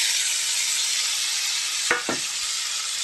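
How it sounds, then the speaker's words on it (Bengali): Fish and tomatoes frying in a pan with onions, a loud continuous close sizzle with a couple of stirring scrapes about two-thirds of the way through. "এবার বাদ বাকি টমেটো আর মাছটা এর মধ্যে দিয়ে দেবো"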